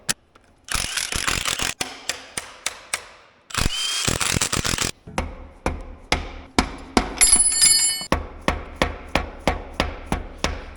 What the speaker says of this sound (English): we can take our cam covers off.